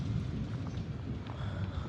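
Heavy rain pouring down outdoors in the evening, a steady, soft, even wash of noise with no gaps or voices.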